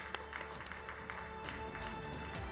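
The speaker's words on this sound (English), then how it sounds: "Big round of applause, ladies and gentlemen." Audience applause at the News18 Rising India 'She Shakti' conference in August 2023: steady, dense clapping from a seated crowd, moderately distant and fairly soft, filling the room continuously without speech.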